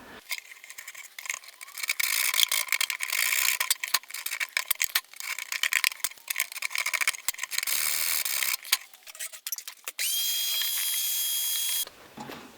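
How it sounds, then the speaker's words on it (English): Sandpaper scraping out the glue joint under a loose brace inside a broken acoustic guitar's back, a dense run of rapid rough rasping strokes, close and fairly loud, ending in a steadier grinding stretch. "So I'm going to carefully clean that out with some sandpaper"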